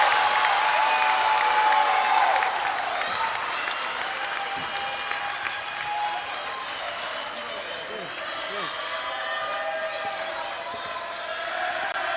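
A large indoor crowd at a college volleyball match cheers and applauds loudly, the roar easing slightly then swelling again, with an announcer talking over it.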